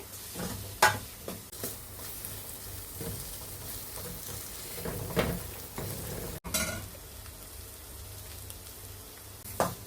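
Chilli, coriander and cumin powders fry in oil in a pan for a restaurant-style palak paneer. A low, quiet sizzle runs under intermittent stirring clinks and scrapes of a spoon against the pan.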